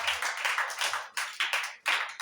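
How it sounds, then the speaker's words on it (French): A church congregation applauds for the Lord, loud rhythmic group clapping in bursts close by, with no talk over it. "Applaudis une fois encore pour le Seigneur."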